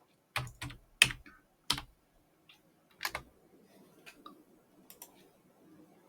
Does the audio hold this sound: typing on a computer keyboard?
yes